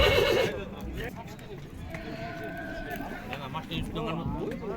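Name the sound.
black horse neighing at horse market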